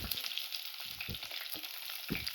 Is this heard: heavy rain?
no